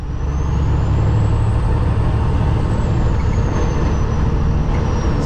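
A semi truck engine runs loud and steady close by, a deep continuous rumble with a thin high whine drifting above it for the full stretch, no voices.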